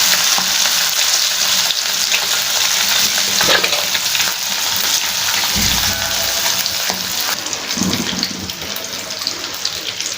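Pieces of pomfret fish sputter loudly in hot oil in a pan, making a continuous, dense crackling sizzle with a few brief bumps as pieces settle in.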